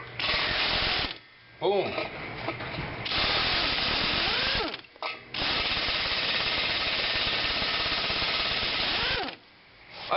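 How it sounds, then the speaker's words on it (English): An air ratchet with a socket spins a seized bolt loose in several loud, rattling bursts with short pauses between them, and a voice briefly speaks in between. "get the air ratchet going, and let's extract that baby"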